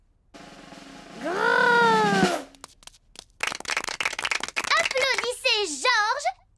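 Candy Cat, a cartoon cat from Peppa Pig, gives a long, loud, rising-and-falling meow, followed by crowd clapping and further shorter mewing cries at a circus show.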